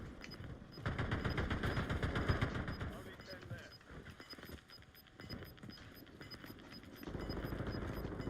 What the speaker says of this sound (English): Oh my god, I grabbed my dual SMGs.